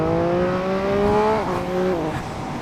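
A 2018 Triumph Speed Triple RS motorcycle pulls out of a pit lane, its engine revving with steady rising harmonics that shift down on a gear change midway, loud and close over wind rush.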